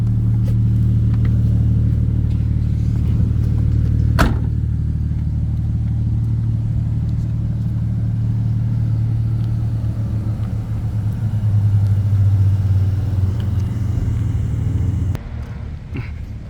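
Japanese turbocharged car engine idling steadily on its own after shutdown, held running by a turbo timer; a low continuous rumble close by, with a brief sharp click about four seconds in and a change near the end.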